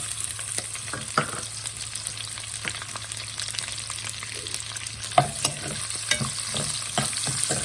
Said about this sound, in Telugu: ఆనియన్స్ గోల్డెన్ బ్రౌన్ వచ్చే వరకు వేయించుకోవాలి